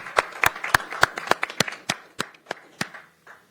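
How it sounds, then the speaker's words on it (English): Scattered applause from a small audience at a Pierce County Council meeting: a dozen or so distinct, sharp claps in an uneven rhythm, thinning out and slowing toward the end, with no voices. "Let's give them a round of applause."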